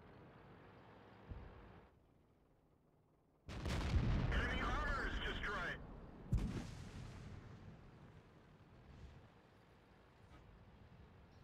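Tank cannon fire in the World of Tanks video game, heard as a heavy booming blast with a rumbling tail and a second sharp shot, over quiet engine hum and ambient battle noise.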